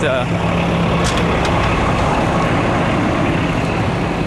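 Steady roar of road traffic with cars and trucks idling and rumbling near a crash scene, loud and continuous with voices talking over it.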